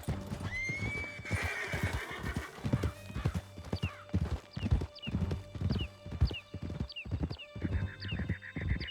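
Horses galloping hard in Red Dead Redemption 2 during a canyon chase: a fast, steady drumming of hooves with sharp repeated whinnies and neighs, loud and close throughout.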